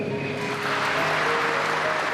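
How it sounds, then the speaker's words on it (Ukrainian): A large audience applauds a Vladimir Putin speech in a hall, with steady dense clapping throughout, loud and continuous, with faint voices mixed in. "Присутні радісно плескають у долоні."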